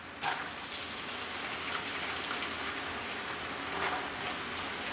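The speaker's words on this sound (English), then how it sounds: "Now it's onion frying time." A large batch of onions fries in a pan for a home-cooked pierogi meal, giving a soft, steady, even sizzle like light rain that runs throughout.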